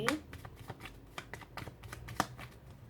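A deck of tarot cards being shuffled and cut, a quick, close riffle with soft flicking and slaps lasting a few seconds, with a voice faintly present.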